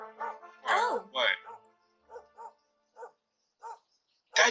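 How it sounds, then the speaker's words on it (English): A dog barks in Dragon Quest XI, several short, clipped, synthetic-sounding barks spaced irregularly, following a stretch of game character voices and effects. "That dog bark sounds so artificial."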